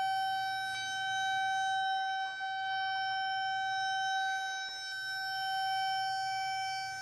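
A pipe locator detector emits a steady electronic tone that dips slightly in level as the unit sweeps back and forth over a hidden pipe, holding on with only a faint background hiss and no talking.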